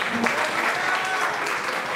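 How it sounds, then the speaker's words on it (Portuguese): A church congregation claps in a steady, moderately loud burst during a religious TV program, with a faint voice underneath. "uma salva de palmas para Jesus."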